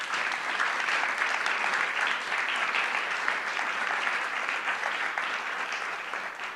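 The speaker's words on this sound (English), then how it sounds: "So a round of applause." Audience at a school board of education meeting applauding, a steady, even wash of clapping from many hands lasting several seconds and fading slightly at the end.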